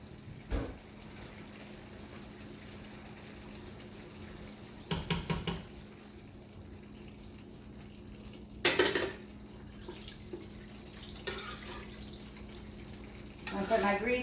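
Grease strained off cooked hamburger meat over a kitchen sink, brief bursts of metal pan and utensil clatter with splashy pouring between quiet stretches, close by.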